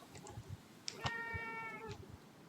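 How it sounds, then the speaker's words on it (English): Roxy, a tortoiseshell cat, gives a clear drawn-out meow close by, with a couple of shorter chirps before it and soft background noise. "My cat is very chatty."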